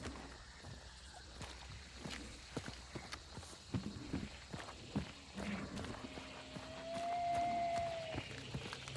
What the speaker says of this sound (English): I swear I heard footsteps. I thought they were nearby.